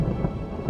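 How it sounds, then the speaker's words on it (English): A heavy rainstorm from a Star Wars Andor scene, with a dense wash of steady rain and a deep low thunder rumble underneath, loud and continuous across the brief moment. "It's raining."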